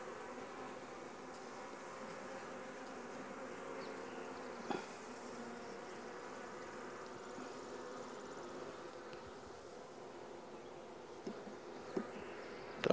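Honey bees from nucs being added to new hives hum in a dense, steady buzz close by, fairly quiet, with a few faint knocks and no talking.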